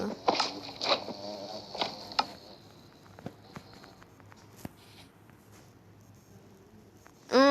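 Buzzing bees dart close by in several loud passes early on, then fainter intermittent buzzes with scattered clicks and rustles.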